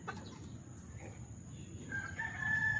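A rooster crows faintly in the distance against a steady outdoor background hum, with the call rising toward the end.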